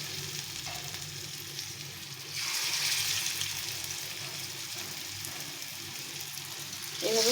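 Potato pieces frying in hot oil, a steady close sizzle that swells louder as more pieces go into the pan, with a brief sharper crackle near the end.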